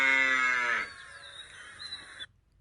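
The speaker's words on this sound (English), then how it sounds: "So cows say moo." A single cow moos once, a low drawn-out call that trails off, fairly close and alone against quiet background.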